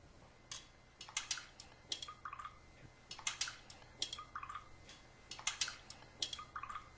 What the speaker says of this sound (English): Now let me stir these up real quick.